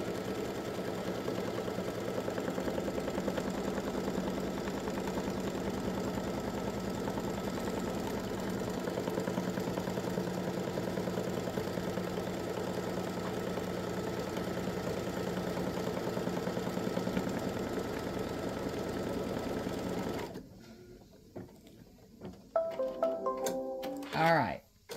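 An embroidery machine tacks down backing fabric with a steady, even mechanical whir and rapid stitching hum for about twenty seconds, then stops, followed by softer handling noises.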